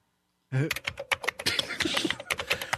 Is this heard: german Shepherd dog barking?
no